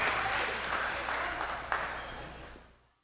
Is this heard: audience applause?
yes